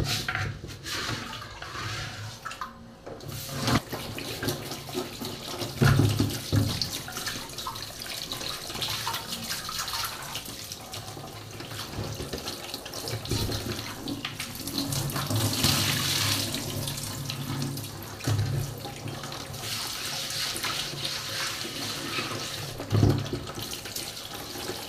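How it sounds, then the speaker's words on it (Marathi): Running water splashes and gushes while an old clay water pot is washed and scrubbed with salt, a continuous close tap-like flow with occasional louder surges and no voices. "आता माठ आपण स्वच्छ मीठ लावून असा धुवून घेतलेला आहे"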